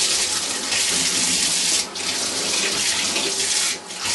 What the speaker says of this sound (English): run the water over the paper both sides